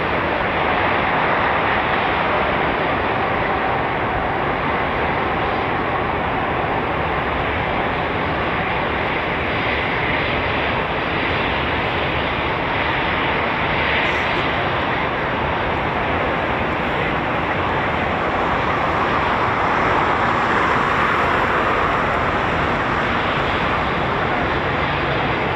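Eurofighter Typhoon FGR4 jet engines running up at an RAF station on a sunny day, a loud, steady broadband roar that holds constant throughout with no breaks.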